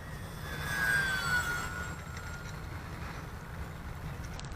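An eFlite P-51 Mustang RC model airplane flies overhead, its electric motor giving a steady whine that rises and falls with a Doppler-like pitch sweep as it passes, heard at moderate distance against a low rumble of outdoor wind noise.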